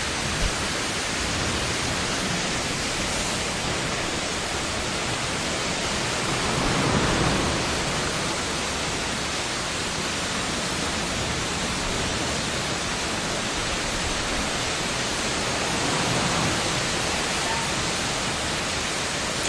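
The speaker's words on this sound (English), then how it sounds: "What would happen if you would listen to that waterfall over there, in between your heartbeats?" A waterfall pours in a constant, dense rushing roar that fills the whole stretch evenly, with only slight swells in intensity and no voices.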